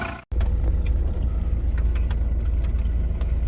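After a brief cut, a 20-year-old Volkswagen Polo engine with an overheating fault runs steadily with a deep, loud rumble and low idling drone, with occasional faint clicks and knocks.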